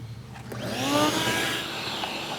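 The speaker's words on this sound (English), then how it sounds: "Let's grab the vacuum." A vacuum cleaner whines and roars as it sucks debris from the rusty interior of an old car, the pitch rising and sliding as the nozzle works, loud and close with no talk.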